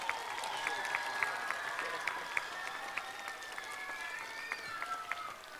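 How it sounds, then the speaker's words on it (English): An elementary school ribbon-cutting audience applauds its principal outdoors, a faint steady patter of many hands with scattered sharper claps and murmuring voices underneath. "Let's give him a round of applause"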